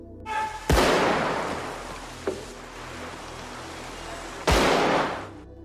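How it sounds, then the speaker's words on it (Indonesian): Two sharp, loud gunshots about four seconds apart, each with a long booming tail, plus a small thud in between. "tidak puas dengan hanya satu tembakan, Jimmy bahkan menanamkan timah panasnya berkali-kali"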